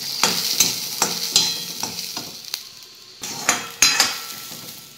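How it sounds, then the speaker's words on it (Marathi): Pigeon pea grains roasting in a little oil in a kadhai, with a steady low sizzle broken by repeated sharp scrapes and clinks of a spoon stirring against the metal, close and fairly loud. "कढईमध्ये तुरीचे दाणे छान भाजून घेऊ"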